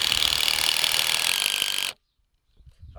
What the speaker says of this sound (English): we're just going to drill it on in.